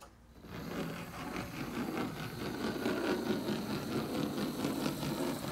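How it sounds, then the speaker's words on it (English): A Fleischmann European 0-6-0 model locomotive runs on track with a steady whirring motor and a continuous, slightly rattling clatter of wheels, constant and close without speech. "Motor's nice and quiet, but the wheels, they make a lot of noise."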